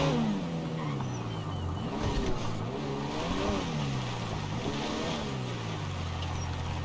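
Car engine in GTA 5 driving steadily and revving, pitch rising and falling in repeated sweeps, loud and continuous throughout with no talk.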